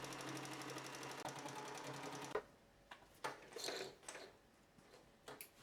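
A sewing machine stitches the front panel of a bedsheet top to its lining, running in a steady fast mechanical patter for about two seconds, then stopping, followed by a few scattered handling clicks and fabric rustles.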